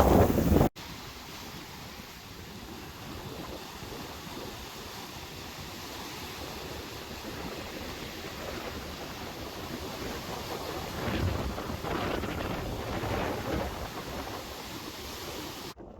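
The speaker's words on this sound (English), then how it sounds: "Kind of enjoy the tide rolling beside me." Ocean tide waves roll steadily along a shoreline during an oceanside stroll, a continuous broad wash of surf mixed with wind noise on the microphone, swelling slightly louder near the end.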